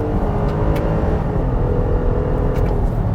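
A 2022 Infiniti QX60 SUV with close to 300 horsepower accelerates hard in sport mode, its engine a loud, steady low roar mixed with road rumble from inside the cabin.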